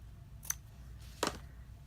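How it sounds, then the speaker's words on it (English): Scissors trim ribbon on a stamped and embossed papercraft bow, two quiet, close snips about a second apart, the second slightly longer. "I'm gonna grab some scissors and just trim that off"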